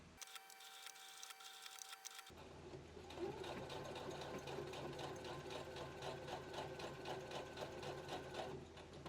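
A sewing machine back stitching a seam on a sleeveless cotton wrap top, a faint, steady rapid whirring and ticking of the needle that starts after a brief quiet pause and runs continuously, close by.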